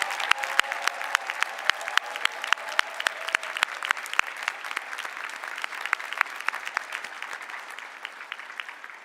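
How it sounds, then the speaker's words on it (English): A commencement audience gives sustained applause for nursing school graduates, a steady wash of many hands clapping, fairly distant and even, with no one speaking over it. "Let us give them another round of applause for their exceptional success."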